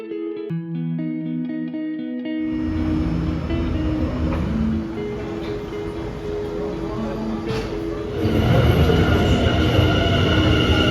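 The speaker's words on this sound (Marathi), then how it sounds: "नंतर परत ट्रेन पकडली आणि परतीचा प्रवास केला" After a brief musical tone, a moving train rumbles steadily from inside the carriage, growing louder toward the end.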